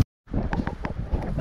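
Strong wind gusting across Lake Mapanuepe in San Marcelino, Zambales, buffeting the microphone with a loud, rough rumble after a brief silent gap at the start.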